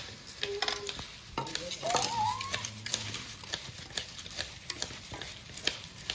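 Dry sev mamra, crisp puffed rice with gram-flour noodles, stirred and tossed in a pan for a Gujarati snack: continuous close rustling and scraping, with light clinks of the spoon against metal throughout.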